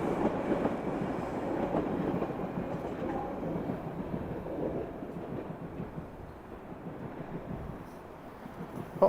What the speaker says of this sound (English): I think a new train is coming north.